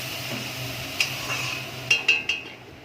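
A metal spoon clinks and scrapes against a pan while spice paste for potato curry is stirred, a few sharp taps over a low background hum.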